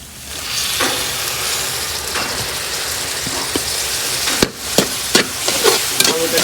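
A quarter kilo of tomatoes sizzling in a pan for village-style boneless mutton fry, a steady loud hiss broken by a few sharp crackles and spoon clacks.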